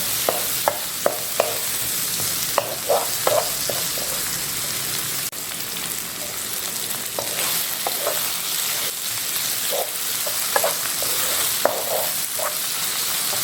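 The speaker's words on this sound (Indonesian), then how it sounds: "Tomat ini harus dimasak sampai matang. Tidak perlu pakai air ya." Tomatoes cook in a pan for sambal, giving a continuous close sizzle and bubbling spatter with occasional stirring scrapes and taps throughout.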